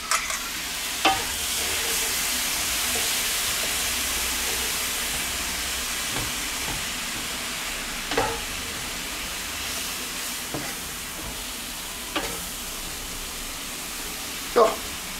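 Mushrooms sizzle steadily in a hot pan for a hunter-style chicken pasta dish, with a loud continuous fry broken by several sharp scraping stirs of a utensil against the pan, heard close and alone.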